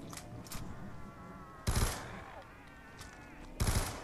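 Video game gunfire fired in short, quick bursts: a faint early burst, then two loud clustered bursts separated by about two seconds, set against quieter game ambience.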